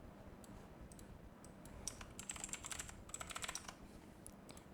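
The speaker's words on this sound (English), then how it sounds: "then just go to text and add in your text and just type in the word loading." Typing on a computer keyboard, a quiet burst of rapid clicking keystrokes in the middle of the stretch, fairly faint against low background noise, with no voices.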